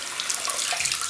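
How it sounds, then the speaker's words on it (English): A tap runs steadily over a synthetic shaving brush, making a loud, continuous hiss and splash of water close by. "So we just wet the brush, no need to soak the synthetic."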